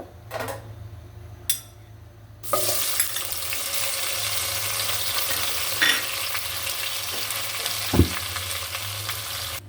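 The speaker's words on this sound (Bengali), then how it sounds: "এখানে দিয়ে দিচ্ছি সরিষার তেল আমি শুটকি মাছটা ভেজে নেব" Dried rupchanda fish hits hot mustard oil after a few quiet clinks, and a loud, continuous sizzle then fills the rest, with occasional sharp pops and a light clatter near the end.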